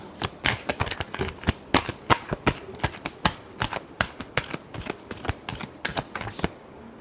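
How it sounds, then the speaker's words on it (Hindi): Tarot cards shuffled rapidly by hand, dense rhythmic flicking and slapping bursts close to the listener over about seven seconds, with no talking. "Last shuffle."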